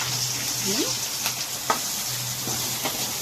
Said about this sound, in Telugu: తాలింపు గింజలు, ఎండుమిర్చి, ఉల్లిపాయ మంచిగా వేగేంత వరకు వేయించేసుకోవాలండి.